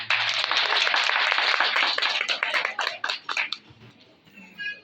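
An audience at a gathering breaks into strong applause to welcome guests on stage, a dense burst of clapping that thins into scattered claps and fades toward the end.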